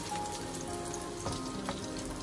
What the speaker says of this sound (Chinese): 最后一直把饼煎制成像我视频中这样子两面金黄的状态就可以了。